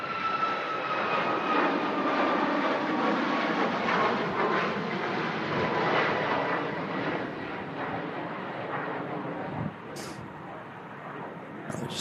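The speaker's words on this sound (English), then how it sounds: "that Ryanair 737 MAX 8200 ending off to Rome" A Ryanair Boeing 737 MAX 8200 takes off from Manchester Airport for Rome in strong gusts, its broad engine roar swelling and then slowly easing, with a brief sharp noise near the end.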